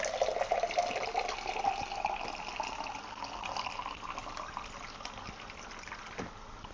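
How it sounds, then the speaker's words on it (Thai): Water runs steadily from an opened tap into a container in a condo kitchen, a continuous splashing gush at close range that carries on unbroken and softens slightly toward the end. "น้ำเขาก็ออกมาเลย"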